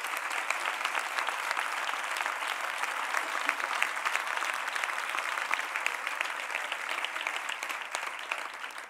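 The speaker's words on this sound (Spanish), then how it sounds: "Un aplauso para ellos y ellas." Sustained audience applause at a Podemos political rally, a dense and even wash of many hands clapping at a distance for the full duration, without a break.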